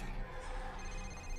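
An old telephone ringing in the video game Condemned: Criminal Origins, a continuous trilling bell tone held steady at moderate level against a low background hum.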